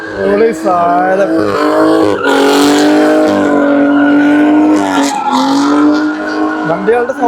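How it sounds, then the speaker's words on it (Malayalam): Cars with fully free-flow exhausts drift at a German auto show, roaring loudly and continuously up close, engine notes rising and falling amid tire squeal. "വണ്ടികളുടെ സൗണ്ട് ഉള്ള കാരണം എൻ്റെ വോയിസ് അത്രമാത്രം ക്ലിയർ ആവാൻ ചാൻസ് ഇല്ല. കാരണം ഇതെല്ലാം കംപ്ലീറ്റ്ലി ഫ്രീ ഫ്ലോ എക്സോസ്റ്റ് ആണ്."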